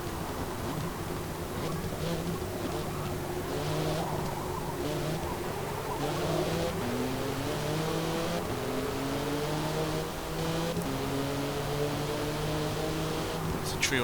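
Mercedes race car engines in the video game Forza Motorsport 7, several engines droning and revving together with rising and falling pitch sweeps, steady and fairly loud throughout.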